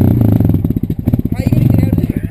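Motorcycle engine chugging close by in a steady rapid pulsing rhythm at low revs, loud and rough, with a person talking over it.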